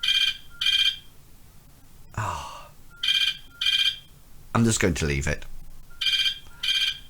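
A mobile phone ringtone repeats during a lecture as a regular pattern of paired bright electronic chirps separated by short gaps. Someone speaks over it between the rings.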